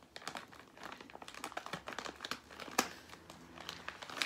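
A sealed plastic bag holding coconut crinkles and crackles in quick, irregular bursts as it is pulled open, faint and close with no voices.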